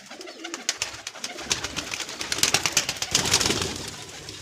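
Pigeons at a pigeon club coo and shuffle while grain is scattered for them, a busy cluster of close coos and wing rustles building in loudness, with no talk.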